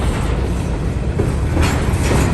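Indiana Railroad diesel Geeps haul a long freight of grain cars, giving a steady, loud rolling rumble with faint clickety-clack of wheels throughout.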